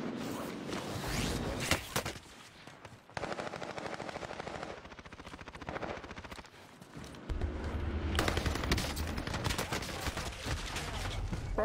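Gunfire in a video game: rapid bursts of automatic shots with dense crackling volleys, loud and continuous with brief gaps between strings.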